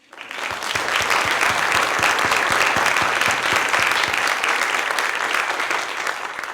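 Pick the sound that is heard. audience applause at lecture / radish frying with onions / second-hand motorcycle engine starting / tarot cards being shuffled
audience applause at lecture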